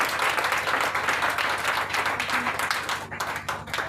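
Church congregation applauding the Lord, sustained dense clapping that stays loud and steady throughout, with cheering voices mixed in.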